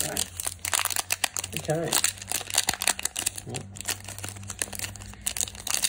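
Pokémon Hidden Fates card pack wrappers crinkling and rustling up close in rapid, uneven bursts while a tin is opened and handled, with brief speech in between.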